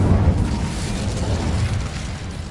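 An Incendio fire spell goes off in Hogwarts Legacy, a steady, loud, low roaring burst of flame that rumbles on for a couple of seconds and fades slightly toward the end.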